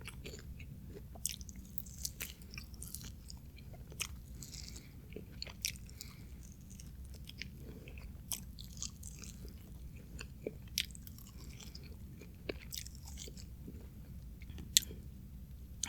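Close, crisp chewing and biting of spicy Wingstop atomic chicken wings, with small crunchy bites and wet mouth sounds repeating steadily over a low background rumble, no talking.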